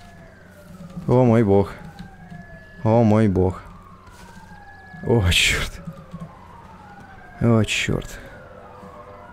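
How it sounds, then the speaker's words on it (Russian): Several wailing police sirens rise and fall in the background of the video game GTA 5 while a person exclaims in short outbursts over them. "Я слышу хреновую тучу сирен."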